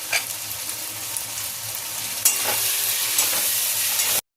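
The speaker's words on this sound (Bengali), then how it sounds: "দিয়ে এবার মশলাটা আমি প্রায় 5-7 মিনিট আমি ভালো করে কষিয়ে নেব" Ground spices fry and are stirred in a pan for chicken kasha, a steady crackling sizzle with occasional scraping strokes, growing louder partway through and then cutting off abruptly, with no voices.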